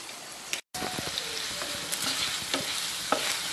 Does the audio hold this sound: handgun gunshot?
no